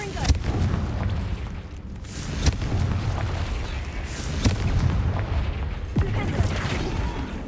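Fire spell explosions in the Hogwarts Legacy game, deep booms and sharp cracks inside a cave over a rumbling game soundscape.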